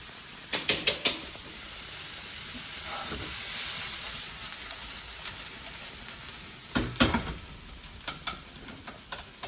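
Onion frying in a pan until soft and brown gives a steady close sizzle and hiss, broken by clusters of sharp scraping stirs.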